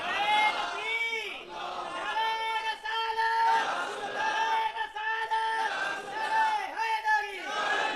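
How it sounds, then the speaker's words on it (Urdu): A large crowd chants a religious slogan in unison at an Islamic sermon gathering, rising and falling in repeated rhythmic waves of many voices, loud and close, with no single speaker standing out. "سچے رسول کا نعرہ اللہ نے ہمیں عطا فرمایا ہے۔"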